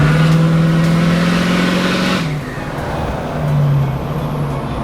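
Exhaust of a truck whose exhaust has fallen off, turbo revving, a loud sustained low engine drone whose pitch holds steady, drops off around the midpoint, then rises again briefly, heard from inside the cab.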